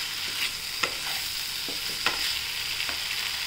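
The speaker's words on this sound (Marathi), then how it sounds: "तेलात परतून घेऊया। आणि आपण असं परतून घेऊ त्याला।" Spinach, besan, onion and green chili sautéing in oil for lasuni palak, giving a steady soft sizzle broken by a few sharp spoon scrapes and stirring clicks, close and alone.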